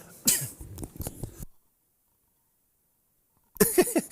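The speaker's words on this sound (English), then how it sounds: "Great piece of commentary, both of us coughing at the same time." A couple of short coughs and throat noises close by from sports commentators at a pairs match, then a stretch of near silence before more brief coughing bursts.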